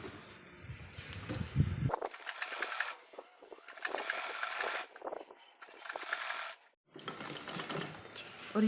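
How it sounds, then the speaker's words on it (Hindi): A sewing machine stitches a straight seam on baby dress fabric, running in several bursts of rapid rattling clatter separated by short pauses, close up and fairly loud. "अब हम इस तरह से फोल्ड कर कर एक सीधी सिलाई और कर देंगे।"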